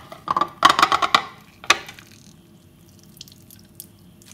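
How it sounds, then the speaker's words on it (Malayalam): Water dripping quickly from squeezed salted bitter gourd, a close burst of rapid drips that slows to a few scattered drops and then near quiet, no voices. "ഇനി ഇത് നമുക്കൊന്ന് പിഴിഞ്ഞ് വെള്ളം കളഞ്ഞ ശേഷം ഈ കയ്പക്ക വറുത്തെടുക്കണം"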